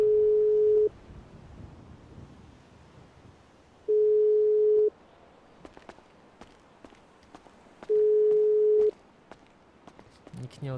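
A FaceTime call rings out in three identical steady tones about a second each, spaced roughly three seconds apart, with quiet clicks and shuffling between them.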